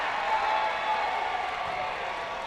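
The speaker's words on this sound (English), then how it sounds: "Crowd's getting hyped up here." Crowd noise at a Hawks versus Hardin County basketball game, a steady wash of cheering and applause filling the gym without a break.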